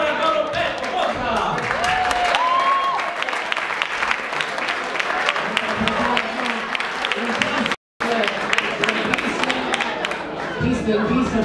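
Applause fills the hall at the close of a youth band concert in Spinetta Marengo, a dense steady clapping crowd with brief voices and a momentary dropout near the end.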